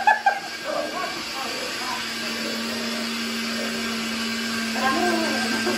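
A blender whirs steadily, blending green seasoning of parsley, garlic, salt and oil for meat and chicken, while people talk and a dog barks briefly near the start.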